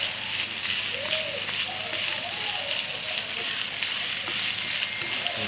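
Chicken sautéing in a pan, a steady broadband sizzle running evenly throughout, fairly close and continuous with no clear pauses.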